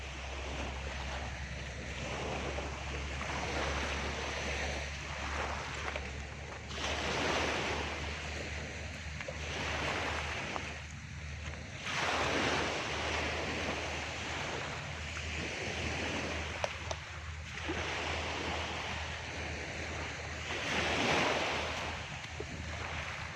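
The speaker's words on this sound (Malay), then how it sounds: "Tengok tu gelombang mak." Ocean waves roll in and break on a beach at Tanjung Uma, Batam, in repeated surges, with steady wind noise blowing across the microphone between them.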